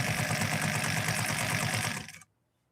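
A Singer 99K three-quarter-size sewing machine stitching elk hide, running with a fast, steady mechanical chatter close to the ear that slows and stops abruptly just over two seconds in, then goes silent.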